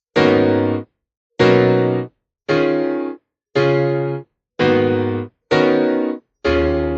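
Seven loud deep house synth chords made with Scaler in Ableton Live 10, each held for under a second, separated by short silences in a steady sequence with no voices.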